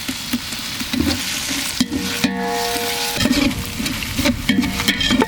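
Chopped onion, curry leaves and ground ginger-garlic paste frying in hot oil for a mutton leg gravy, with a steady close sizzle broken by repeated scraping stirs of a spoon in the pan, no voices.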